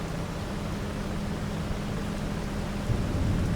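Steady rain and rumbling thunder in the Farming Simulator 25 video game, a dense even wash of noise that holds at a constant level, with a slight swell near the end.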